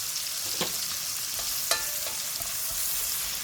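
Onion frying in a pan with bacon, a soft steady sizzle with a few faint stirring scrapes and clicks, quiet and close.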